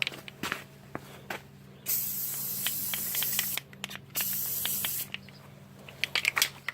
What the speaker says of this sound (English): truck bed coating spray, okay, to make it look tough. Okay, hold on. Okay, so let's spray this thing.